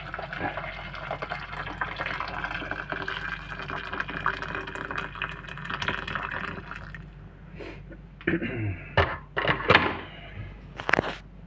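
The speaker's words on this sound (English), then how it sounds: "I'm gonna add the water now, I think" Water runs steadily as it is poured into a pot of noodles, a continuous close splashing flow that stops partway, followed by a few sharp clinks and knocks of the pot and utensils.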